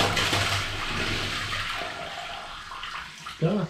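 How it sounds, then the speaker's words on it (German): A household toilet flushes with a loud rushing of water that swells and then drains away over a few seconds, ending in a brief gurgle from the drain, with no talking over it. "Klopapier, Spülung."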